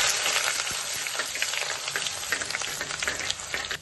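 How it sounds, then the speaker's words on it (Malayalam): Ginger tossed into hot oil already holding mustard seeds and dried red chillies gives a steady, dense sizzle with faint crackles throughout, alone and without talk. "ഇനി നമുക്ക് ഇതിലേക്ക് ഇഞ്ചി ഇട്ട് കൊടുക്കാം"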